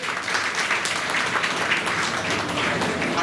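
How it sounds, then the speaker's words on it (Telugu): Audience applause at a school ceremony honouring tenth-class toppers from government schools, a dense, steady clapping from a crowd filling the room throughout. "దయచేసి గట్టిగా చప్పట్లు కొట్టాలి"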